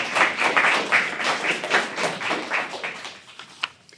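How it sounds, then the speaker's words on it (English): Audience applause at a community morning event, a burst of dense clapping from a room full of people that gradually thins and fades out over a few seconds, ending with a few stray claps. "So a round of applause for all of our sponsors."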